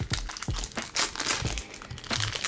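Pokémon booster pack being torn open, its foil wrapper crinkling and crackling close up in quick, uneven bursts with several sharp rips, quiet and alone with no talking.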